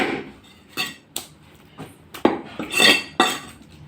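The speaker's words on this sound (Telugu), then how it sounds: "లెగ్ని ఇలా మధ్యలో కట్ చేసుకో" A knife chops through a raw chicken leg on a cutting board, sharp thuds and clacks spaced unevenly with a few metallic clinks, close and moderately loud, no talking.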